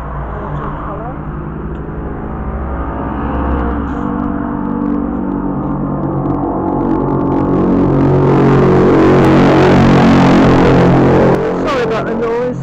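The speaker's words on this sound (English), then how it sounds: "Can't get away from motorbikes around here" Motorbikes pass on a nearby road, their engines swelling into a loud, rising roar that peaks toward the end, with a low humming rumble beneath.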